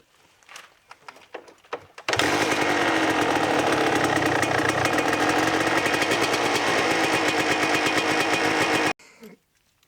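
A Kawasaki KDX200 dirt bike engine fires up after a few faint clicks and then runs loud and steady for about seven seconds before cutting off.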